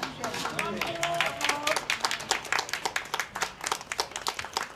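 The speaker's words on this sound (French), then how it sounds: "je veux vous demander d'applaudir très fort, Gisèle." Audience in a Catholic church applauding, a ragged burst of handclaps that grows steadier and louder, with people talking over it near the start.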